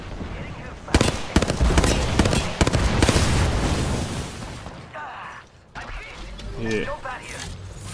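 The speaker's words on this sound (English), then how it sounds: "Getting shot at." Rapid bursts of automatic gunfire and sharp shots from the video game Apex Legends crack loudly across the first few seconds, then ease into quieter in-game clatter, with a player's voice talking over the action.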